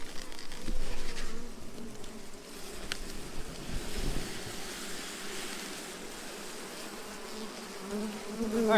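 Honey bees buzz steadily around an opened brood hive during an inspection, a dense continuous hum close by with swells and a few sharper passes near the listener.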